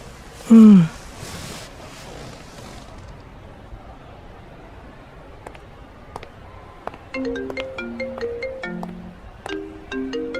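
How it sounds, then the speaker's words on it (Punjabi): A mobile phone rings for an incoming call in a Punjabi romantic film: a loud, sharp burst and faint noise come first, then a bright melodic ringtone starts up and repeats its short note pattern near the end. "Bali Bhai the phone."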